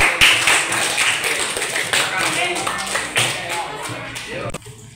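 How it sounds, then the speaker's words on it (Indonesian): Students in an eighth-grade classroom clap for a presenting group, a dense, loud burst of close hand claps that fades toward the end, with voices mixed in. "kita kasih tepuk tangan"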